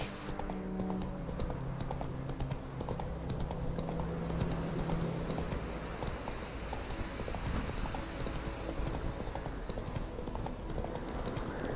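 Hoofbeats of the horse Roach from The Witcher 3 clip-clop steadily and close throughout, a continuous rhythmic gait over a low game ambience, with no talking.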